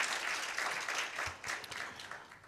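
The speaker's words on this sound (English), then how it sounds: "Can we give her a deafening applause?" Brief, fairly soft applause from an audience for a speaker at an Africa Climate Week 2023 session on livelihoods and a just transition; irregular clapping swells and dips across a couple of seconds.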